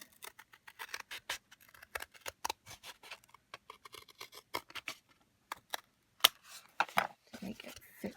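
Scissors trimming the edge of a piece of cardboard, a quick run of close, crisp snips in an uneven rhythm, quiet overall with brief pauses between cuts.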